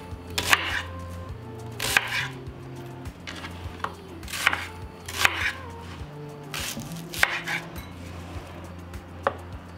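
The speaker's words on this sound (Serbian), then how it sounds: "Iseći ću luk na komade jer ću ga stavljati u secka." Three brown onions are cut into pieces on a board with a knife, giving a series of sharp, close, irregular chops spaced about a second apart, with no voices.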